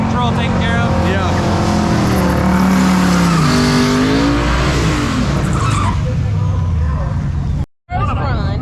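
A 2012 Cadillac CTS-V launches down a drag strip with traction control off, engine roaring loud and close as the tires spin and squeal through a rising, wavering pitch, with crowd voices mixed in and a brief dropout near the end.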